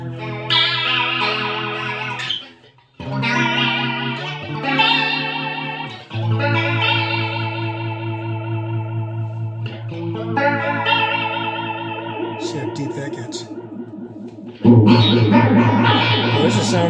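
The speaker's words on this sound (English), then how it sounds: "Let's try the flange." Electric guitar through the flanger setting of a Sonicake Warped Dimension pedal, chords and single notes with a swirling, sweeping comb-filtered shimmer, loud and close, ending in a denser strummed burst.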